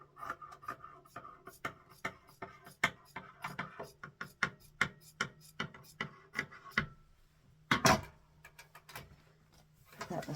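Scissors cutting excess fabric off old linens: a close, steady run of crisp snips and rustles, with one louder crunch near the end and no talking.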